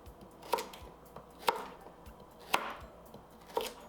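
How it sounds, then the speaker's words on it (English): A knife chops carrots into pieces on a board with four crisp, evenly spaced strikes, close and fairly quiet, with no talking. "carrots I'm just going to cut in half, and half again, and we're just going to chop those."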